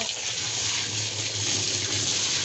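Carbonate solution pours steadily into a liquid detergent mix of Texapon and salt, a continuous broadband gush of flowing liquid with a faint low hum underneath, unbroken for the whole stretch.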